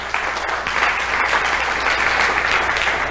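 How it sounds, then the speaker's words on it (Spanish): A church congregation at a Spanish-language sermon bursts into sustained applause, a steady wash of clapping from many hands that holds loud and even for a few seconds. "Denle un aplauso al Señor por eso."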